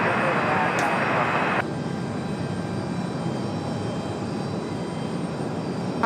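A jet airliner roars at Raleigh-Durham International Airport, a steady loud engine rumble with a brighter whine that drops away after a second or two, leaving a sustained broad drone.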